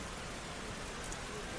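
A heavy downpour in the Terrorball baseball game pours as a dense, even wash of rain noise, quiet and unbroken throughout the short stretch with no talk over it.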